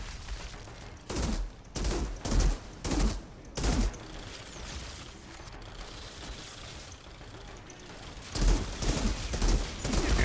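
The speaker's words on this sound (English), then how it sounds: "Alright, keep shooting." Gunfire in the video game Outriders: rapid bursts of shots in short, repeated volleys, loud and close, with a quieter stretch between the early bursts and a final flurry.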